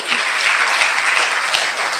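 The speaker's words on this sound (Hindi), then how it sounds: "आप सिर्फ अपनी तालियों का साथ देते रहें" A seated audience at a stress-relief spiritual gathering in Indore claps together in loud, dense, continuous applause that fills the room without a break.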